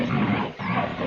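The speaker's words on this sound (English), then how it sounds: "Moments later, you hear a snarl from somewhere close in the jungle." A leopard snarls close by in a jungle setting: one short, rough, growling burst that briefly breaks off and then resumes, loud and alone.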